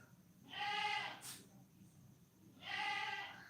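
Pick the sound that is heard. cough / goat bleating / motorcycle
goat bleating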